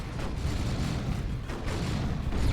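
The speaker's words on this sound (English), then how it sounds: "But they are getting wrecked by plasma cannon shots." Plasma cannon shots in the real-time strategy game Warhammer 40,000: Dawn of War 2 during a 3v3 battle, dense overlapping booms and blasts in a continuous barrage, loud and close.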